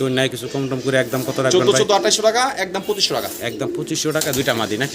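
Fancy pigeons cooing close by in a pigeon sales setting, repeated throaty rolling coos layered over continuous conversation in the background.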